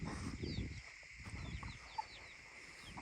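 Chickens cluck softly in a farmyard, a few faint calls over a low background rumble with no clear talk.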